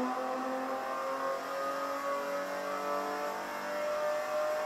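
VW Scirocco race car driven flat out at the Hockenheimring, its engine droning at a steady high pitch with rising harmonics as it accelerates, a sustained close, loud onboard tone with no voices.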